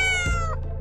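A cat gives a single loud, close meow, a short rising and falling tonal cry that stands alone over steady background hum.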